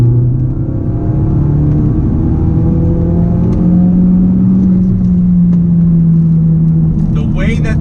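A 450HP 2017 Ford Focus RS engine drones loud and close under throttle, its tone rising and holding steady as the car pulls, with a steady in-car rumble throughout.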